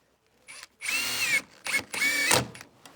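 A power driver setting Simpson Strong-Tie wafer-head screws while installing a window, with a short whir followed by two long, close, loud runs of rising motor whine and a brief burst between them.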